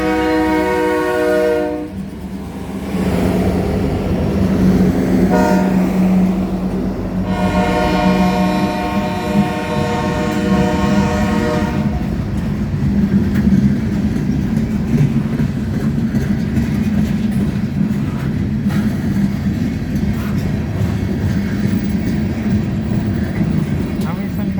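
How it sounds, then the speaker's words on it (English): A BNSF freight train led by a blue locomotive passes through Napavine, Washington, sounding its loud horn in long blasts over the first half, then a steady heavy rumble and clatter of rolling cars continues close by. "There's that blue locomotive again."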